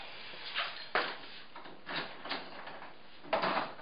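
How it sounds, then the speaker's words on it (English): A door lock clicks and the door is handled, several sharp knocks and clacks arriving at uneven intervals, close and fairly quiet in an indoor room. "got to unlock the door."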